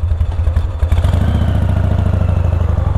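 A ZERO Engineering Type 5 motorcycle being ridden, its engine loud and close with a fast, steady throbbing pulse and mechanical clatter, wind rushing over it.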